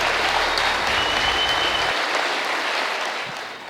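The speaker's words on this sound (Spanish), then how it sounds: "Recibámoslo con un fuerte aplauso" A crowd applauds steadily for a few seconds, the clapping dense and fairly loud, then tapering off slightly at the end.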